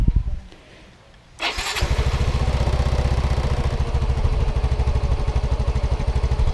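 A Yamaha Mio i 125 scooter, just after a throttle body cleaning, cranks after a quiet moment, catches and settles into a loud, steady, close putter of idling. No one speaks over it.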